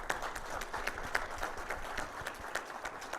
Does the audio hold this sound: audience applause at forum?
yes